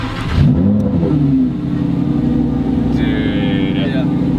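A Lamborghini Huracán Performante engine revs up loudly up close, then settles into a throaty, burbling exhaust idle, with voices talking over it.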